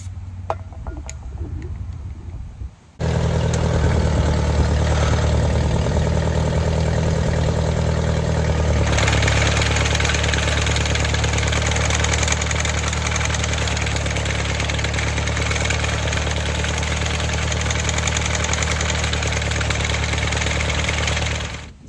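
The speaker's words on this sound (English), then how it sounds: "old Massey Ferguson sickle mower is up and running" Old Massey Ferguson sickle mower engine starting and running, a loud, steady close engine drone that steps up in intensity partway through and continues without talk.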